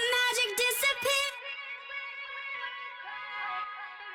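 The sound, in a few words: Valhalla tape delay tail on vocal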